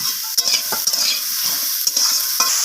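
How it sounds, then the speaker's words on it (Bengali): Eggplant pieces fry and are stirred in hot oil, giving a steady close sizzle with scraping stir strokes and light clinks of a utensil against the pan throughout. "তো বেগুনগুলোকে আমি নাড়াচাড়া করে ভেজে নেব এখানে।"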